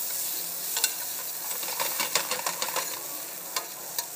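Onions and garlic frying in a pan, a steady bright sizzle with scattered sharp clicks and scrapes of stirring, close and moderately loud, no talking.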